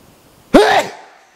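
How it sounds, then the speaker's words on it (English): One sharp, loud sneeze bursts out of near silence and trails off quickly. "Hold on, I gotta sneeze."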